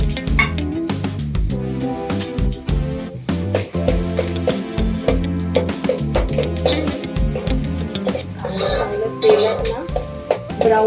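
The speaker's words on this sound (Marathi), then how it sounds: "आता त्या तेलामध्ये" Onion frying in oil in a cooking pot for a spicy Konkani-style crab curry, with a constant close sizzle and frequent scraping, clattering strokes of a spoon stirring against the metal.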